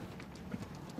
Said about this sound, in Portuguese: No final do dia, Martim consegue que Pistolas entre na arena